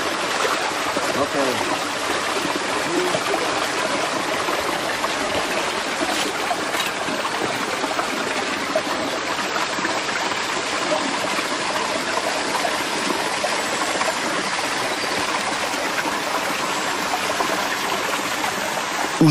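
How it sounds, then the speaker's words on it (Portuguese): Water rushes steadily down an irrigation channel, a loud, constant broadband flow close by with no breaks across the whole stretch. "já vai descer a água"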